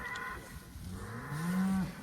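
Cattle from a high-density cow and calf herd moo in a pasture near woods, with one long, loud low moo building toward the end over softer animal sounds.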